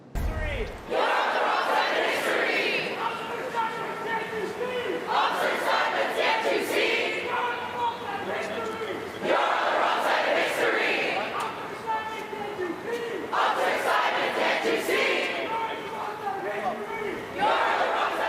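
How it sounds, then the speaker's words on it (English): Protesters chant in unison on the Yale University campus amid a police presence, a loud, dense crowd sound in rhythmic repeated phrases that swell and pause in cycles, continuous and close throughout. "They are chanting right now, as you hear."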